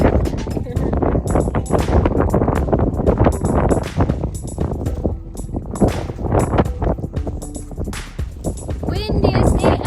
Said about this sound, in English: Windiest day ever.